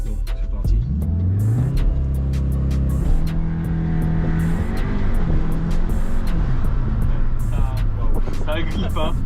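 A Cupra Formentor launches hard under launch control, its engine rising through a sharp rev, then pulling strongly through the gears with clear upshifts, close and loud inside the cabin, with people talking over it.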